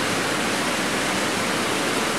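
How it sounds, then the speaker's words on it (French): Heavy rain pours down in a dense, steady, loud roar of water with no breaks, close by and with no voices. "Veel regen, net een douche."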